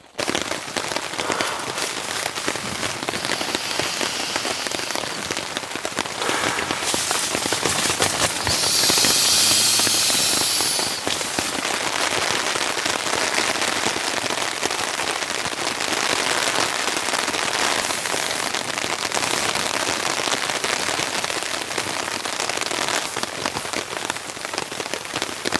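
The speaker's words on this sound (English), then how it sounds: "The rain's showing no sign of giving in." Heavy rain pours onto a tent and tarp on a cold camping trip, a dense, constant patter and hiss close overhead, with a brief louder burst of drops partway through and no talk.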